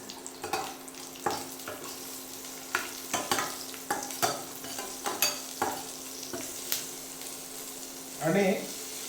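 Asafoetida dropped into hot oil with curry leaves, crackling and sizzling as a spoon clatters and stirs in repeated sharp strikes against the pan, close and fairly loud.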